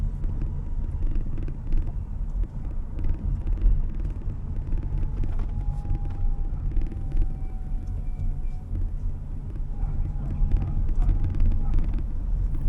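A VinFast VF5 electric car descends a steep 22% gradient using strong regenerative braking; a steady, loud low road rumble fills the cabin, with a faint thin whine above it and no break in the noise.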